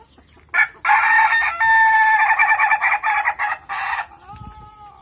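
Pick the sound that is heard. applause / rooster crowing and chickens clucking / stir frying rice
rooster crowing and chickens clucking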